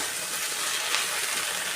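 Steady sizzling hiss of ingredients being stirred and sautéed in a hot pan for a Kerala-style lunch dish, continuous and fairly close with no breaks.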